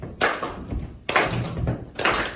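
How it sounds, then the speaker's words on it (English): Three sharp hand claps land about a second apart in an even beat, each a crisp slap with a short tail, in a concert setting. "you're going to start the clap."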